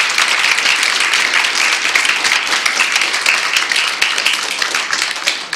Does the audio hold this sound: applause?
yes